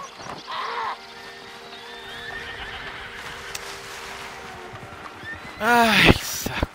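Horse in the Red Dead Redemption 2 video game gives a loud, close whinny near the end, after hoof clip-clop and game ambience, with someone talking over parts of it.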